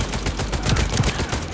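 Continuous beam weapon fire in the sci-fi shooter The First Descendant, a dense, loud buzzing stream with rapid pulsing bursts that runs without a break for the whole short stretch.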